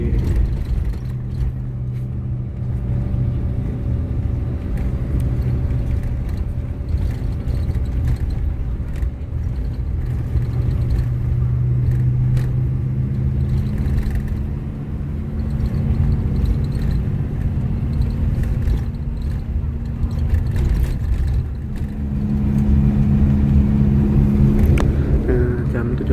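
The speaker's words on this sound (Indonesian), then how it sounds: "Setelah laporan bis diberangkatkan kembali." An AKAS Mila Sejatera "Selendang Biru" intercity bus pulls away in Probolinggo, heard from inside as a steady, loud low engine drone that swells slightly near the end, with talk at times.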